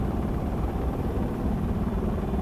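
A helicopter in the Project Reality 1.3 game sets down for a landing with its gear down, a steady close rotor thrum and engine drone filling the scene without pause.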